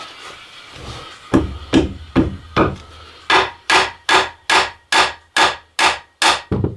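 Small screwdrivers are tapped with a hammer to separate a broken bolt on a 2009 Subaru Forester, a close, loud series of sharp knocks, first irregular and then a steady run of about ten evenly spaced strikes.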